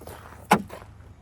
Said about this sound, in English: trunk is clicking, so